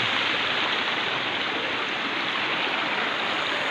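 Clear, cold stream water flows steadily and fairly close, a constant broadband rush with no voices over it.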